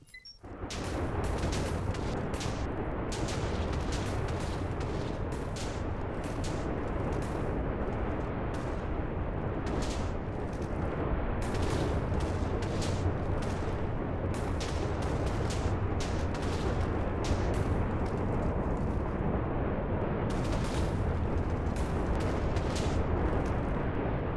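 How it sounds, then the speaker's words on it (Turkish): Continuous booming explosion from a Minecraft blast, loud and sustained for over twenty seconds with dense rumbling and repeated sharp crackling bursts throughout, no talking heard. "bu patlamada nedir böyle?"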